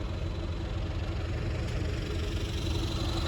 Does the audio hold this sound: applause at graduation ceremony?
no